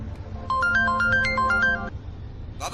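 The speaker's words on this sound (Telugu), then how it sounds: "ఈ టైంలో ఫోన్ ఎవరు?" A phone ringtone plays a bright melodic electronic tune for over a second, then cuts off abruptly, leaving quiet room noise.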